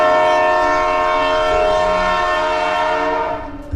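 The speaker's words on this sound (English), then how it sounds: "The train screeched into Palakkad Junction just after sunset." A train pulling into Palakkad Junction in Kerala, a loud sustained harmonic screech of brakes or horn that holds steady for about three seconds before fading, with faint rail rumble beneath and no voices.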